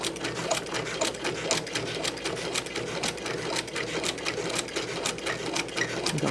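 A sewing machine back-tacks and then stitches forward along the line of a foundation paper pieced tulip potholder, a close, steady rapid needle clatter with fine regular pulses running throughout.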